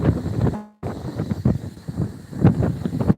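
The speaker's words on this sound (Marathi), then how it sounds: "वारं भरपूर सुटलं" Strong wind sweeps across a cauliflower field, buffeting the microphone in loud, uneven gusts with a momentary drop before the rumbling rush resumes.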